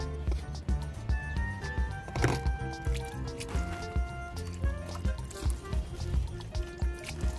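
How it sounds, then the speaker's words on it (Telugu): Water mixed with a 10 to 15 ml dose is sprayed onto terrace garden plants in quick, rhythmic wet squirts, repeating steadily up close. "మొక్కల మీద ఇలా స్ప్రే చేసుకోవడం."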